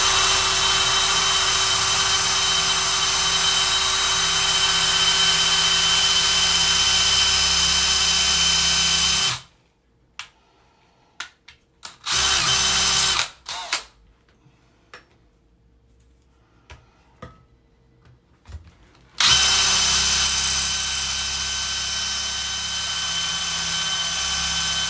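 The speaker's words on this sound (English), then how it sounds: "It is hard to drill this thing." A power drill grinds loudly into a bike lock in a long sustained whine, stops abruptly, followed by several short bursts and a quiet stretch, then the drill resumes at full volume.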